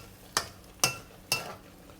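A utensil stirring potatoes and long beans in sauce in a pan, making three evenly spaced scraping strokes with a faint wet sizzle between them, close and alone.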